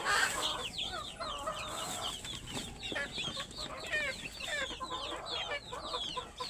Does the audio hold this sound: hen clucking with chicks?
yes